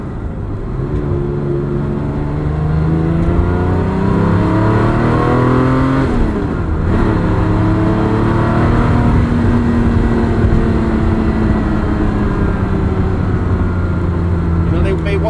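A 1984 Ferrari 512 BBi with a fuel-injected engine pulling while driving, heard from inside as a loud, rich engine note rising through the gears with a shift dip midway, then a steady, throaty cruise.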